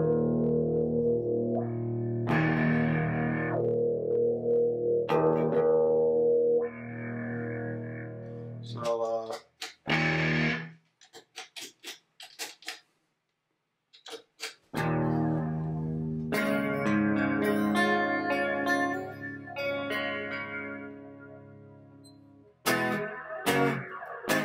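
Electric guitar played through a Guitar Kontrol 3 distortion effect on a Mac, loud sustained distorted chords and notes with gaps of silence and a stretch of choppy, stuttering bursts.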